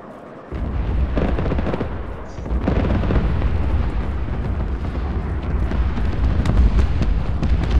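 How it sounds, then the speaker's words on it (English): Carpet bombing in a video game: a relentless barrage of deep, overlapping explosions rolling on after a brief quiet start, booming loud and continuous with scattered sharper blasts. "That is a lot of bombs."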